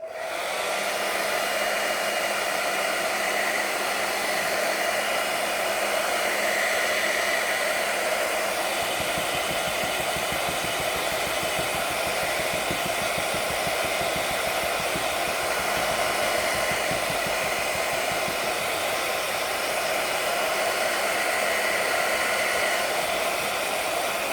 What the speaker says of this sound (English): I'm going to have to do the hairdryer up here